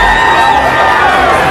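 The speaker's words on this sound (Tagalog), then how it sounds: "Hiyawan ng mga tao sa bansang Australia dahil sa husay ng Pinoy na nagbigay ng entertainment" Loud crowd cheering and shouting for a Filipino boxer at a boxing event in Australia, a dense, sustained roar of many voices without a break.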